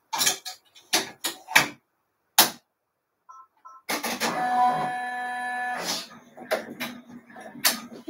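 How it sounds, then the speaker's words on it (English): An embroidery machine sews a satin stitch in thick red thread, starting with scattered sharp mechanical clicks, then a steady whirring run of several seconds, then more clicking taps close by. "It's gonna do the nice satin stitch now."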